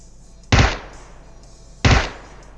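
Two sharp rifle gunshots in PUBG fired from long range, loud, close cracks about a second and a half apart, each with a short decaying tail over a quiet background.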